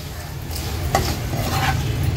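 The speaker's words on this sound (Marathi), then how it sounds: "ह्या सर्व वस्तू तेलात तळताना गॅसची फ्लेम लो टू मीडियमवर ठेवायची आहे, म्हणजे छान ते क्रिस्पी होतात।" Coconut slices frying in oil over a low-to-medium gas flame for thin poha chivda, a steady close sizzle with occasional stirring scrapes and light clinks of a utensil in the pan, no voices.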